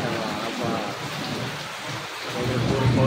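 Heavy rain pours steadily at night in Satara while low thunder rumbles underneath, a dense continuous wash of rainfall that swells slightly louder toward the end.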